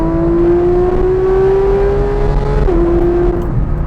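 Porsche 911 GT3 with a full GMG racing exhaust and headers, revving high toward 9,000 RPM, a loud, sustained, rising wail with a brief dip as the revs shift, close and alone.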